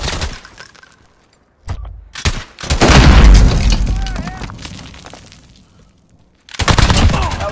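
A cruise missile strike in a military shooter game: a sharp crack, then a huge booming blast that rumbles and slowly fades over several seconds, followed by another burst of heavy gunfire. A voice speaks briefly near the start.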